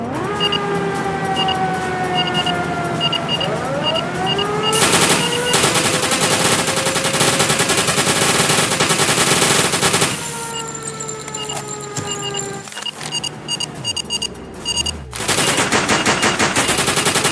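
Rapid machine-gun fire in the submarine game UBOAT, loud and sustained in long bursts, with rising and falling wails and alarm-like tones layered over the shooting and no talk.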